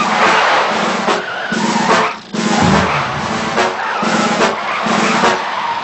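Cartoon car skidding with squealing tires as a monster clings to it, a loud, continuous screech with a brief dip midway, heard alone without talk.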